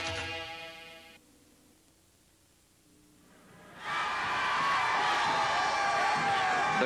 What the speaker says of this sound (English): The crowd is ready.